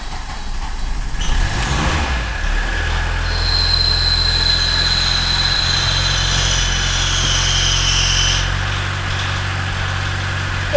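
A Volkswagen Golf engine running in a garage, a steady low rumble with a high whine rising partway through and then easing off, loud and close with no talking.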